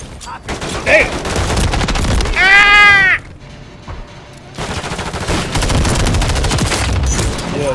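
MTZ-556 rifle firing in Modern Warfare III multiplayer: loud, close bursts of rapid automatic fire with a short quieter pause midway and a brief tonal game effect, then sustained shooting.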